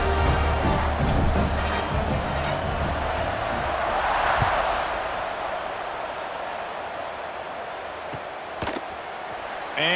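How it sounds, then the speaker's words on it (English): A football stadium crowd at a BYU versus Indiana game, a broad continuous roar that swells and builds, with scattered thumps and bangs in the stands. "Do you think this crowd's going to get loud when their defense comes on the field?"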